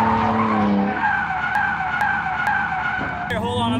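A drifting car at a drift event, tires skidding in a loud sustained squeal with a rising, wavering engine whine. Sharp clicks cut through, and the pitch shifts suddenly near the end.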